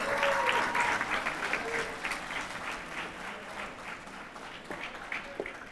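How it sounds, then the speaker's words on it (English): Audience applause at a high school graduation ceremony, a broad, fairly distant wash of many hands clapping from a large crowd, tapering slightly as a few faint voices come through. "Can we give our mayor another round of applause?"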